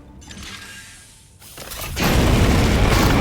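A Burninate fire attack in the strategy game Warhammer 40,000: Chaos Gate - Daemonhunters: a low mechanical rumble builds, then a loud, sustained roaring whoosh of flame surges in and holds to the end.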